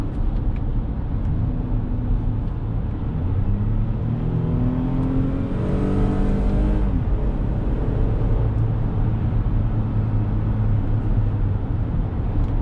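A 2021 Toyota Highlander SUV with an 8-speed automatic in manual mode heard from inside the cabin, engine droning and climbing in pitch through a rev, then dropping at a shift before settling under steady road noise.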